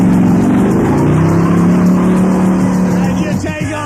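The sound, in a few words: car driving off, radio skit sound effect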